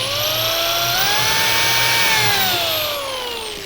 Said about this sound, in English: The reason I'm drilling 2 holes on the end pieces is so that it would anchor properly